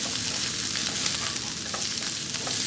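Mushroom stems stir-fried in a hot pan for a spicy vegetarian dish, giving a steady close sizzle with small scraping stirs throughout, no voices.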